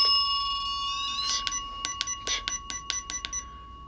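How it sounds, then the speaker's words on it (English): A small bell is struck during a paranormal ghost hunt, a run of about ten sharp metallic dings at uneven intervals after a sustained tonal ring, with a constant high electronic whine underneath. "Tap that bell."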